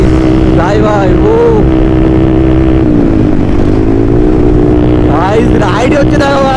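A KTM Duke and a Yamaha FZ 250 motorcycle race along a road, their engines droning loud and steady under heavy wind rush, while someone talks over the noise.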